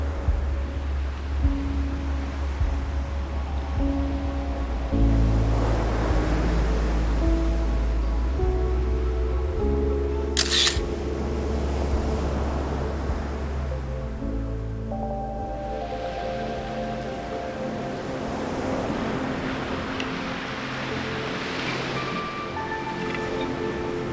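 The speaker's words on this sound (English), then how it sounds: "The steady rhythm of the ocean waves was our only companion" Ocean waves wash onto the beach of a secluded bay beyond Agua Verde in slow, steady swells, with soft broadband surf running under a layer of sustained musical tones throughout.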